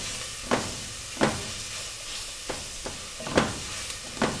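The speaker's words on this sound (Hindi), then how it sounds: "लहसुन को हमने ऑयल में हल्का सा ब्राउन करना है।" Garlic browning lightly in oil for a homemade chili garlic sauce, a soft steady sizzle with several brief louder spatters or stirring bursts spaced irregularly, close and moderately quiet, no talking.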